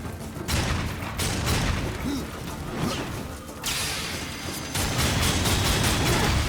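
Rapid gunfire and impacts from the video game Darksiders II sound in dense, continuous bursts, with whooshes and crashes mixed in and no talk over them.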